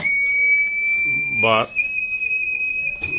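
A faulty Microtek inverter under repair emits a steady high electronic beep that continues throughout, with someone speaking briefly over it.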